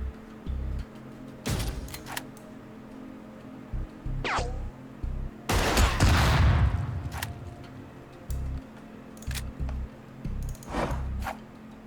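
Gunfire, an explosion and a flashbang in the tactical video game Lethal Tactics: sharp scattered shots, then a loud boomy blast near the middle, followed by more isolated cracks.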